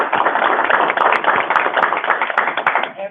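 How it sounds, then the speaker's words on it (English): An audience applauds at a county commissioners court meeting, a dense, steady burst of clapping from a roomful of people, loud and close, fading near the end. "Judge, I'd like to recommend we give all these youngsters a round of applause."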